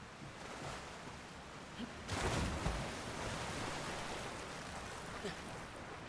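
Waterfall in the video game The Legend of Zelda: Tears of the Kingdom, a broad continuous rushing roar that swells briefly partway through, with faint voice underneath.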